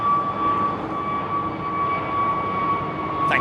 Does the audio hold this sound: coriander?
no